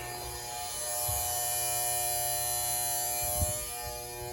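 A small bilge pump motor installed in a Nep'Toon Micro Tug 9 model boat runs with a faint, steady electric buzz for a few seconds, with no other sound around it.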